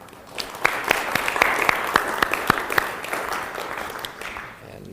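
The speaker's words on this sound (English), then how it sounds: "So please give a warm round of applause for Miki." An audience gives a warm round of applause welcoming Miki, the president-elect, to speak: steady, dense clapping with a few sharper claps, fading out toward the end.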